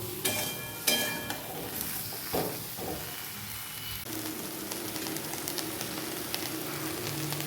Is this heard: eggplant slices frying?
yes